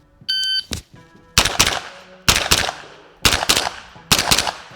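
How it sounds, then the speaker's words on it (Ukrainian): Carbine fired in a quick string at a shooting range, a beep followed by a shot and then four loud, evenly spaced cracks, each trailing off into a short echo, with no talk. "Ну, а тепер спробую постріляти швидше."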